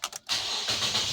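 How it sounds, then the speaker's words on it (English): A 2014 Nissan Versa engine cranks with a few quick starter bursts, then catches and settles into a steady idle, heard close with no voices. "let's start the vehicle up."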